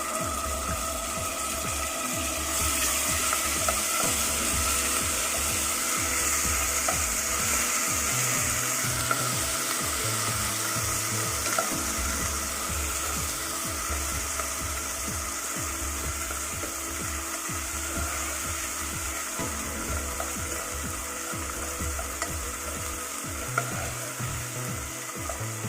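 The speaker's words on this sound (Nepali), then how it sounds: "अब अदुवा र लसुनको पेस्टलाई पनि फ्राई गर्दैछु" Ginger garlic paste fries in a pan for a pumpkin curry, giving a continuous close sizzle with repeated scraping stirs and a low steady hum underneath, with no speech.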